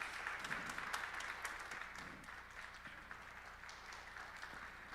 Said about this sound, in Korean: 가정에서도 박수로 축복해 주시기 바랍니다